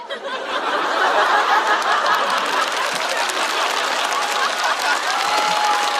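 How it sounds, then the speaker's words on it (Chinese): Audience applause at a Chinese stand-up comedy show, a loud, dense wash of clapping from a large crowd with scattered chuckles mixed in, sustained for several seconds. "你可以在台上带头鼓掌嘛。"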